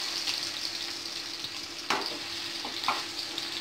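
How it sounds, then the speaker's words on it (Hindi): Chopped mango pieces are stirred slowly in hot oil with fennel seeds, a soft steady sizzle under occasional scraping strokes of a spoon against the pan, close and moderate with no talk. "इसको धीरे धीरे इसको हला लेते हैं तेल में।"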